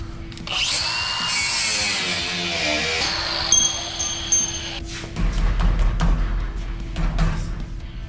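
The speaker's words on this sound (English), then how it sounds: "I'm gonna cut the excess off." A power tool whines and grinds at close range, cutting off excess material in a couple of bursts with short pauses and scraping between them.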